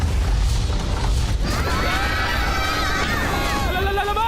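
A cartoon spaceship part exploding: a sudden low boom and crash, followed by whooshing and warbling effects, with voices over it.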